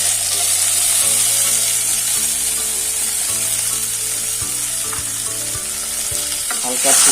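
Chopped tomatoes frying in a pan over medium heat for a sweet Bengali chutney, a loud steady sizzle under a tonal background hum, with a brief stretch of quiet speech.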